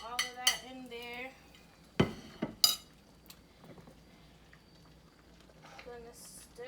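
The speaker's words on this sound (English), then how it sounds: "So we're gonna plop all of that in there." Intermittent clinks and scrapes of stirring pepper into a pot of Jamaican chicken foot soup, a few sharp metallic knocks separated by quiet gaps, with a voice speaking briefly.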